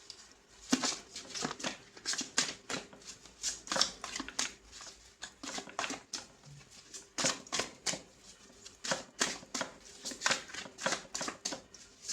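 Tarot cards being shuffled by hand during a love reading, a quick crisp riffling patter coming in repeated bursts with short pauses between, close and fairly quiet with no talk over it.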